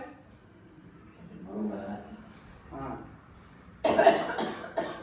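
After some quiet low murmuring, an old man coughs loudly and harshly at close range, one burst followed by a shorter second cough.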